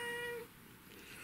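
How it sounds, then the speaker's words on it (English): A cat gives a single short meow, close and fairly clear, then falls quiet for the rest of the moment. "yes, he said meow."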